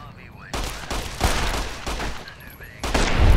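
Revolver shots in the Fallout: New Vegas video game, several loud sharp blasts in quick succession with game ambience between them.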